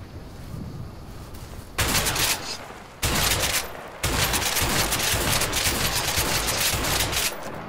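Shotgun fire in the video game A Way Out: a few loud, sharp blasts with brief gaps between them, then a sustained burst of heavy shots near and close, with no talking.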